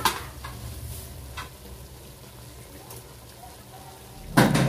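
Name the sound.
stirring the dish while cooking, with chili added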